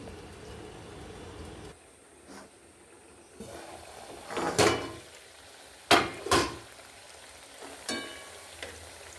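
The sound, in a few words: taro curry simmering in covered pan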